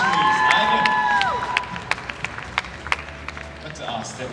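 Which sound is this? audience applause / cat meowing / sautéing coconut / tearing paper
audience applause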